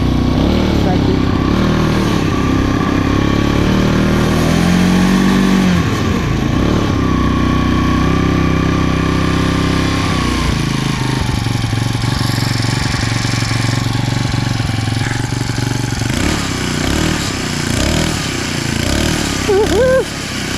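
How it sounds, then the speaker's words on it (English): Abandoned XMotos 90cc dirt bike engine running steadily at close range, a buzzing mid-pitched drone with a few swells of revving, heard continuously with voices underneath. "Get a little gas in here. See if we can get it to fire."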